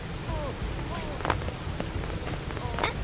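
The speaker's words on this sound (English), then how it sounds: "And the rain, it never stops. It's been raining like so much." Steady rain falls in the open world of the video game Xenoblade Chronicles X. It is a constant broadband hiss with scattered faint taps and a soft low rumble underneath.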